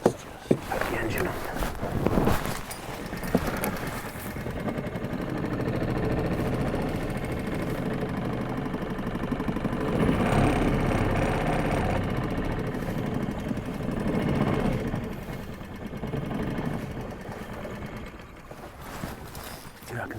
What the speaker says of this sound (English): Let's just put the engine on.